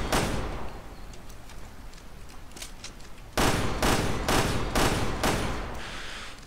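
Gunfire in the video game Resident Evil Revelations 2: a burst of sharp, loud shots, first faster and lighter, then a run of heavier, evenly spaced blasts over a steady background roar.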